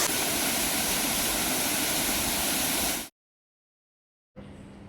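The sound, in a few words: waterfall flowing on a trek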